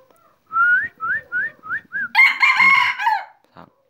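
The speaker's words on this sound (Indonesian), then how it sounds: "Ini kokok belajar ya" A young ayam pikat rooster makes several short rising whistle-like calls, then a full, loud crow from close by, with no other sound around it.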